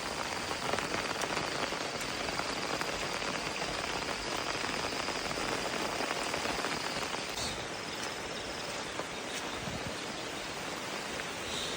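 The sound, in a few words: rain starting to fall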